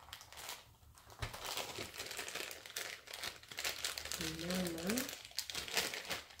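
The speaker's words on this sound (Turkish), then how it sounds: "Yani Poşetten mi dokunuyorum?" Hands rustle and crumple a plastic bag during a blindfolded board game challenge, the crinkling coming in close bursts beneath people talking.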